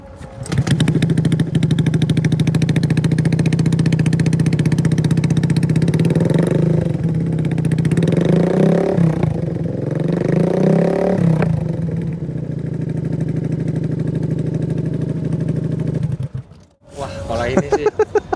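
A Honda Scoopy scooter engine with an Akrapovic exhaust drones loudly up close, revving up and down several times with a throaty exhaust note, then cuts off near the end.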